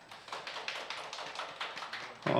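An audience at a panel talk show on rural policy applauds a panelist's introduction with steady, moderately distant clapping for a couple of seconds before a louder sound cuts in at the end.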